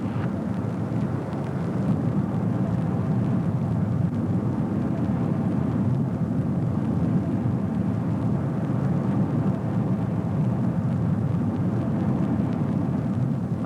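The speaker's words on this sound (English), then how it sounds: "A B-52 from America's Strategic Air Command sent to test the Nighthawk's readiness." A B-52 bomber from America's Strategic Air Command flies past, producing a loud, steady, deep rumbling roar that holds unbroken for the whole stretch with no voices.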